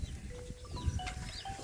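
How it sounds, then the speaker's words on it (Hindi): A Rajanpuri goat gives a short, fairly faint bleat outdoors, with soft background noise and no talking. "ये बकरी देखे"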